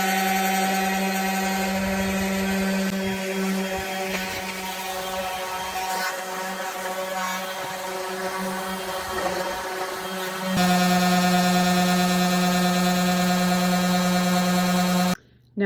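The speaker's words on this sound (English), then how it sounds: "I'm taking my battery-powered rotary sander with a high-grit sandpaper." Battery-powered rotary sander with well-used 120-grit sandpaper working over blue-painted wood, a steady close whirring drone with a high tonal whine that grows louder and rougher partway through, then cuts off abruptly.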